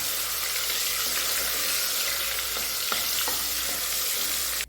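One tablespoon of ginger garlic paste fries in a pan for chicken korma, giving a dense, continuous close sizzle broken by a few faint scrapes of stirring.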